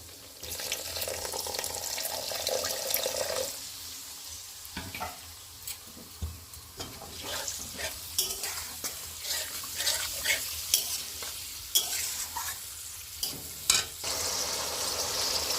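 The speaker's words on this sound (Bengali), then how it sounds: "এক চামচ ধনে আর 1 চামচ জিরে, একটু জল দিয়ে আমি ভালো করে মশলাটাকে কষে নেব" Spice paste of ground coriander and cumin with a splash of water being stir-fried for mutton curry, steady sizzling with repeated scraping strokes of a spatula in the pan.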